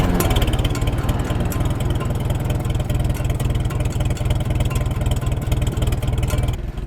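A tractor engine warming up to drive a homemade sawmill idles and chugs steadily at close range, a low rhythmic rumble with some clatter, running continuously without pause.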